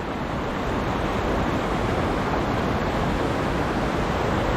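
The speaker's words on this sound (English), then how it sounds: "Big Falls, little rapid there, nice little waterfall here" Waterfall and small rapids on the river at Big Falls on the North Becaguimic pour in a constant, dense roar, close and unbroken, with no voices.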